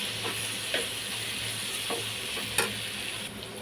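Curry leaves sizzle and crackle in hot oil while frying for a bottle gourd curry, a steady close hiss with scattered pops and soft stirring, no talk.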